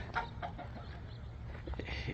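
A native country rooster on a home farm gives a few short, soft clucks close by over a low outdoor background, with brief gaps between calls.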